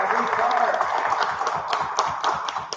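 Audience applause for a candidate at a 2023 7th Ward aldermanic forum, steady crowd clapping filling the whole moment with a continuous dense patter of hands, loud and close, with no voices rising above it.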